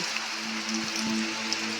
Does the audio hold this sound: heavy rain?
yes